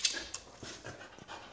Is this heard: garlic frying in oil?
no